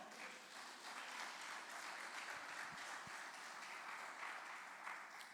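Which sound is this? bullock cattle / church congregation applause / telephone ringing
church congregation applause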